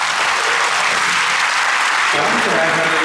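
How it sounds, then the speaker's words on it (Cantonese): Students at a secondary school assembly clap together in a steady, dense burst of applause that fills the hall, swelling slightly near the end. "咁我哋俾一次掌聲佢哋好嘛？"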